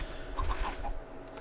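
Chickens cluck in Minecraft. Several short clucks come in quick succession over a steady game background.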